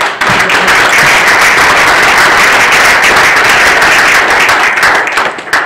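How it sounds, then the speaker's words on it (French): An audience at a conference gives loud, sustained applause, a dense wash of many hands clapping together that holds steady for several seconds before tapering at the end. "Et je vous invite à les applaudir, s'il vous plaît."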